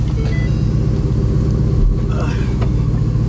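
A turbocharged 1000-horsepower Ford Mustang engine rumbles loudly and steadily up close, with a deep low drone that holds throughout and never fades.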